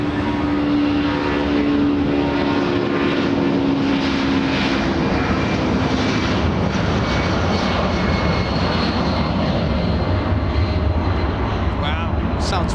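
A Hawaiian Airlines Boeing 787 Dreamliner heavy departs from runway 24 Left at Los Angeles International, its broad engine roar steady and loud throughout, with a radio voice talking over the top.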